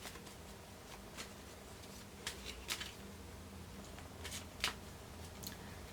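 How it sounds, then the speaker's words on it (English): Playing cards are shuffled quietly, soft riffling and scattered papery clicks coming through at low volume over a few seconds. "and I'm going to shuffle again."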